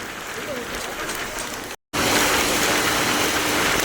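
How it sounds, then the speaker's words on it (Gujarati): Heavy rain pours down during a journey toward Vrindavan, a dense, steady roaring hiss that stops for a moment before returning even louder and fuller. "જોર જોરથી વરસાદ ચાલુ થઈ ગયો"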